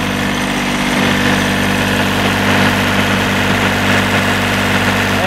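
A tractor engine idles steadily up close during winter snow-plow work, its exhaust piping out heat in a continuous, even rumble that holds for several seconds with no voices over it.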